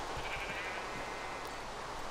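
A sheep bleats in the Minecraft Tekkit video game, standing out over dense, continuous noise across the whole short stretch.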